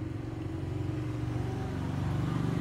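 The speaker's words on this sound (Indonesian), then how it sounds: "ada motor lewat" A motorcycle passing on a nearby street, a faint, steady engine hum that swells slightly as it goes by, with no talking.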